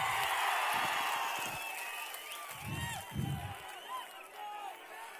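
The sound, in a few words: crowd applauding at political rally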